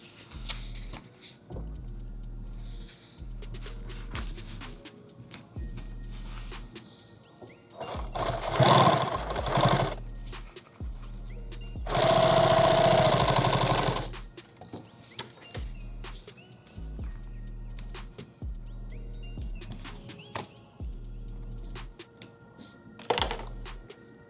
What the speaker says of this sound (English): Now we're going to sew the other piece on here.